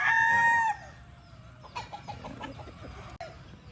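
A gamefowl rooster, a Kelso Raptor Sweater Boston Roundhead, gives one loud, close crow at the start, then softer clucks and rustling follow with faint voices behind.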